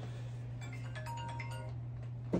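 A personal phone rings with a short electronic tune, its melodic tones rising over a steady low hum before a brief knock at the end.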